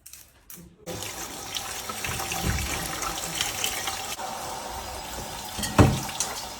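Water runs from a kitchen tap while pasta is washed for a Sicilian baked pasta dish, a steady, moderately quiet splashing stream with a few louder knocks and clatters near the end.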